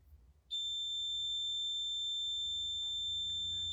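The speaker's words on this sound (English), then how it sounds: "REM pod's gone off." A REM pod's high-pitched continuous electronic alarm tone starts suddenly and holds steady and loud, with faint rustling underneath, in a former jail's kitchen.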